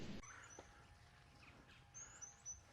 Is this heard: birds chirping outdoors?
yes